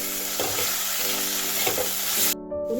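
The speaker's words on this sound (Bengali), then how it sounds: "এরপর দিয়ে দেবো ভেজে রাখা আলু পর আলুটাও এই মশলার সাথে ভালো করে কষে নেবো" Fried potatoes are tossed into a spice masala and cooked in oil, giving a loud close sizzle with scraping stirs that cuts off abruptly near the end.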